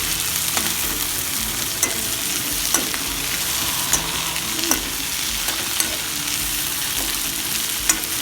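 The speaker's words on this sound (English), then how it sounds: "Let's cook the onions till they are translucent only." Onions and potatoes for poha fry in a pan with a bright, steady sizzle, while a spatula scrapes and taps the pan at regular intervals, close and loud with no voices.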